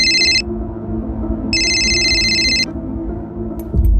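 A telephone rings in a crime drama scene, two bright electronic trilling bursts separated by a pause over a low steady background drone, ending with a faint click.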